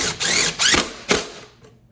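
A power driver spins screws into a box miter in short whirring bursts, three quick close-up runs with brief pauses between, the last trailing off into quiet.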